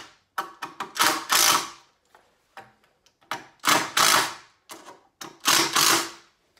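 Screws driven into a wooden wall-framing board with a power driver: repeated close, loud bursts of whirring and grinding, each a second or less, separated by short gaps and small clicks.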